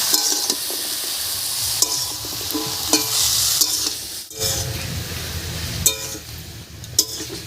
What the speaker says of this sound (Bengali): হলুদ লবণ দিয়ে ভালো করে মিশিয়ে নিয়েছি।